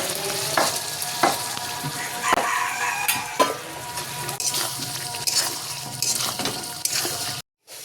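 Goat meat and potatoes frying in a pan, with steady sizzling, scraping stirs and clinks of a utensil throughout, close and fairly loud.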